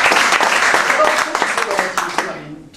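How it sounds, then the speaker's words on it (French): Audience applause at a French event or show, a dense burst of clapping under crowd noise that fades out toward the end. "applaudissements s'il vous plaît."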